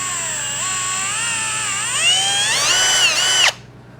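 A power drill bores out holes in a metal plate, close and loud. The motor whine holds steady, then rises in pitch as the bit bites and strains, and stops abruptly after about three and a half seconds.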